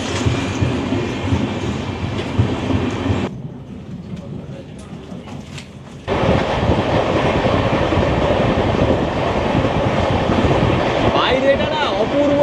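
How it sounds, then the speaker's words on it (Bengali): Kulik Express passenger train running into Bandel station, a steady loud rumble of wheels and carriages with a quieter dip midway, then full rolling noise returning, with a faint squeal near the end and talk mixed in. "ব্যান্ডেল স্টেশন ঢুকছে"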